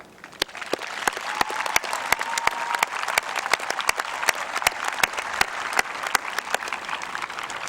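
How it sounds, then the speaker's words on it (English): A graduation audience applauding the graduates, sustained crowd clapping that builds quickly and holds steady, loud and full, with sharp individual claps standing out near the microphone. "Let's show our support for these graduates with a round of applause for them."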